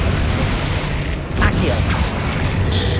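A Bombarda blasting spell explodes in Hogwarts Legacy on PS5, a booming burst rising briefly out of a continuous rumbling wash of battle noise.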